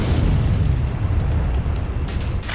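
A large explosion destroying the XBO in a video game, a loud, sustained rumbling blast that stays heavy and continuous, with a sharper crackle near the end and no talking.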